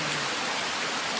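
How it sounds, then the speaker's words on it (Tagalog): Heavy rain pours down in a steady, even hiss, loud and unbroken for about a second, with no voices. "Lakas ng ulan dito ngayon"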